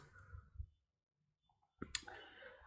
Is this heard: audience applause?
no